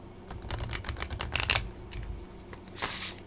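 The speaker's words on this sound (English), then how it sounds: "I'm going to cut shuffle once through" A deck of oracle cards being cut-shuffled by hand once through, giving a series of quick, crisp papery clicks and riffles close up, ending in a brief louder flurry.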